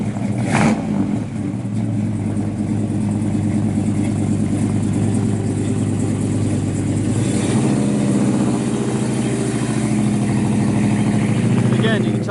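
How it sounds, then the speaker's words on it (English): A 1970 Chevrolet Chevelle SS 454 with a 4-speed runs with a deep, loud, steady rumble, its big-block engine idling and revving throughout, the pitch shifting partway through. "Good sounding motor in it."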